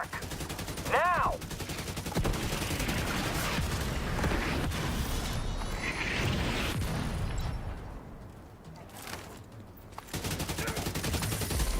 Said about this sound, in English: Mortar on my mark. Now.